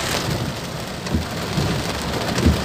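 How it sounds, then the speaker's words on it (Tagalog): Heavy rain pours down steadily in a dense, roaring hiss, with occasional low rumbles swelling beneath the downpour. "Lakas ng ulan."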